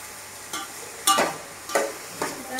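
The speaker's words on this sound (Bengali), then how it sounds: "আমি এখানে ঘি দিয়ে ভেজে নিচ্ছি, তাহলে খেতে ভালো লাগবে।" Rice frying in ghee in a pan, a quiet steady sizzle broken by several scraping stirs of a spoon at irregular intervals.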